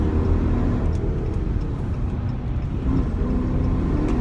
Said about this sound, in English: I'm merging on the highway right now, alright, and I'm going 40. I just hit the gas